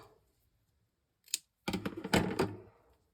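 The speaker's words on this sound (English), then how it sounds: "I'll just cut that a bit smaller." Card being trimmed smaller with scissors, a single short snip followed by a quick run of crisp cutting and paper rustling, close and quiet.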